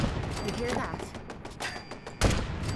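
Rapid gunfire in Fallout 4's Far Harbor, a dense fusillade of shots thudding over game ambience with a heavier impact near the end; a person talks over it.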